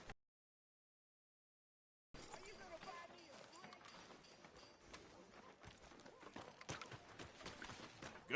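Horse hooves clip-clop steadily in Red Dead Redemption 2, a walking rhythm of muffled thuds under game ambience after a short silence, with voices talking over it.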